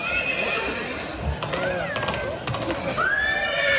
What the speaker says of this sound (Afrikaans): Arme perd.